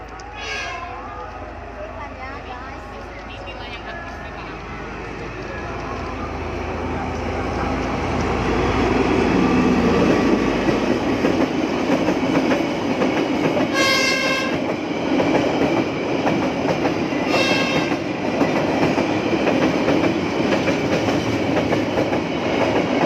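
A train rolls past beside the railway line in Medan, its rumble swelling loud and close, with two bursts of horn midway through; voices talk over it throughout.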